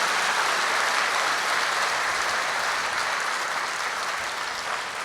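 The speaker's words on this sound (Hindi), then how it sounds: "भाई जोरदार तालियां बजाओ ना" Loud, dense applause from a large audience at a spiritual gathering, a steady wash of clapping that holds evenly for five seconds and eases slightly at the end.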